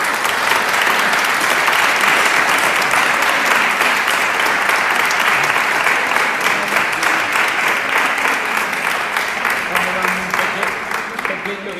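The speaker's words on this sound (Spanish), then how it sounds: "le damos el último aplauso" An audience applauding at the close of an evening talk: loud, continuous clapping that fills the room for about twelve seconds, thinning slightly toward the end.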